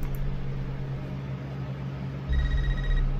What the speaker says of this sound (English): Oh, the classic old school phone.